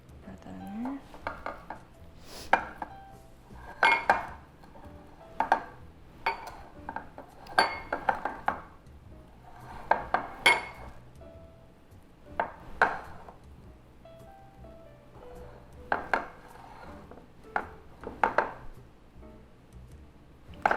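Thick vegan brownie batter is scraped out of a bowl and spread into a baking pan, giving irregular soft scrapes and clinks of utensil on metal, close and intermittent.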